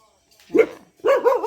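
A dog barks outdoors in a rural garden, two short yelping barks about half a second apart, fairly close and moderately loud against quiet surroundings.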